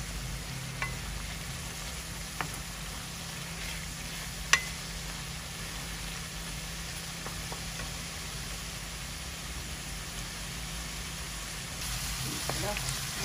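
Spices sauté in hot oil for a spinach, potato and prawn curry, giving a steady, even sizzle that fills the whole stretch, with a few faint clicks and taps from stirring.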